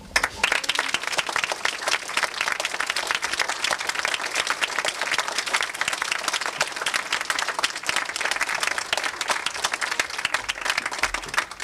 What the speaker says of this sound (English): clap for all of you who took part in this